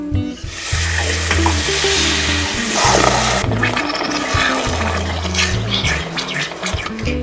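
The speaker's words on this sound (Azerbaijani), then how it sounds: "Həmin bunun üzərinə qalan şəkəri əlavə edirəm və 170 milli südü." Milk and sugar poured onto hot caramel sizzle loudly and steadily as the mixture is stirred, with a constant frying hiss throughout and low background music underneath.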